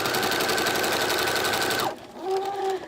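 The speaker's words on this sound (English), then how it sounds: "I'm going to sew right at the edge. Right at the very edge of the fabric" A sewing machine stitches right along the fabric edge of a potholder in a steady, close buzzing run, pauses briefly, then starts again for a shorter second burst.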